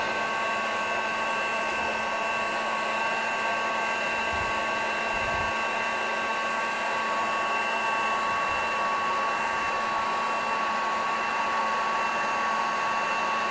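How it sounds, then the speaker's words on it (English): A heat gun set to 380 degrees blows hot air in a steady, close whooshing hiss with a constant motor hum, running alone and unbroken throughout, with a few faint low thumps. "380 degrees with this heat gun"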